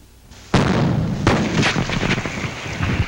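Gunpowder ignited in an engine cylinder test, 1940: a sudden loud close blast, followed by a rumbling series of further bangs and crackles.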